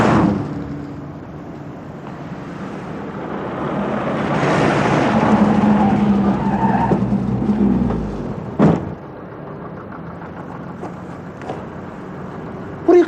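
A hearse car rolls up with a broad rumbling swell that builds and fades, ending in a sharp thud, while faint voices sit in the background.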